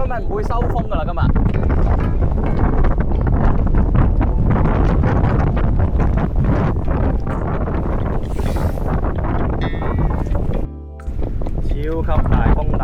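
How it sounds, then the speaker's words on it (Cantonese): Strong wind and rough waves batter a fishing boat at sea in heavy weather with some rain, a loud continuous roar of wind buffeting and water rushing that fills the whole stretch, broken only by one brief dip. "超級大風大浪，仲有啲雨啊！"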